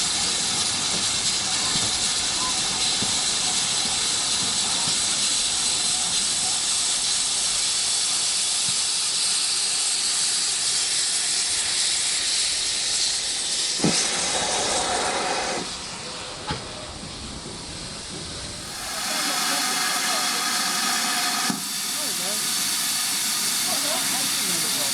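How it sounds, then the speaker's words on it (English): Steam hisses steadily from BR Manor Class 7812 Earlstoke Manor as it buffers up to a local train at a preserved railway steam gala. The broad, loud hiss dips briefly near the end before resuming. "BR Manor Class 7812 Earlstoke Manor came off the sidings and buffered up to the local, ready to return it to Kidderminster."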